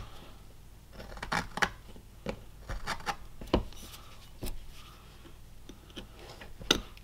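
Knife push-cutting wood while carving a small castle, a series of quiet, irregular scraping clicks and ticks, close and faint with gaps between strokes.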